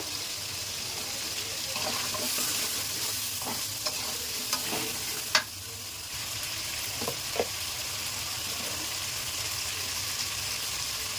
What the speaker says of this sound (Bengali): আলু দিয়ে দিলাম, আলুটা আগে কষিয়ে নেব।